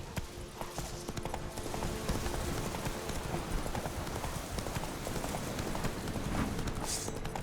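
Steady clip-clop of horse hooves running continuously under a busy, noisy backdrop, with faint voice-like sounds mixed in, from the video game The Witcher.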